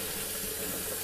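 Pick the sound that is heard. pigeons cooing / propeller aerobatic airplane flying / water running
water running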